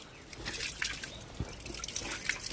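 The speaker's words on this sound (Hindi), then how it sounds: "तो यहाँ पे है धारा" Water trickling and dripping from a mountain spring near a village in Almora, a soft steady liquid patter with small drips, close and quiet with faint background noise.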